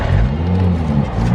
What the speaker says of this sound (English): it's already loud and it's the stock exhaust.